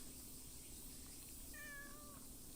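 A single faint, drawn-out cat meow rises briefly over a quiet, hissy background.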